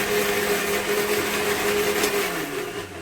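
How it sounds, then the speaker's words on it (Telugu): A mixer grinder grinds spices for an okra curry, a loud, steady, continuous whirring roar that holds for the whole stretch and eases slightly near the end. "ఫస్ట్ ఇలా మిక్సీ పట్టుకుంటున్నాను"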